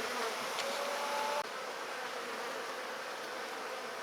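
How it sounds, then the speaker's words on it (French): A swarm of honeybees being taken into a small nucleus hive hums steadily throughout, a dense, even buzz that stays level from start to finish with no voices. "Maintenant, toutes les abeilles sont rentrées."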